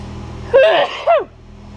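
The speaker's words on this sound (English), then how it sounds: "I'm trying to sneeze" A man sneezes inside a car in a short two-part burst, a rising breathy catch followed by a sharp release, close and loud against a quiet background.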